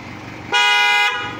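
Extreme loud aftermarket horn on a Mitsubishi Adventure blasts once for about half a second, a bright brassy honk rising abruptly above the idling engine rumble and then cutting off.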